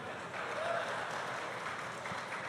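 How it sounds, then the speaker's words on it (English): A crowd at a Metal Gear Solid voice acting panel applauds Quinton Flynn, a dense, continuous patter of clapping heard from within the audience, fairly soft and even throughout. "Listen to the applause for Liquid."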